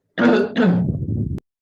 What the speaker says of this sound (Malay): Batuk sikit je.